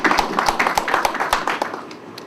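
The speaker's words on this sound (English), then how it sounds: "I think I deserve a clap" Conference audience at a leadership summit breaks into scattered hand clapping, fairly close and moderately loud, individual claps distinct rather than a dense roar.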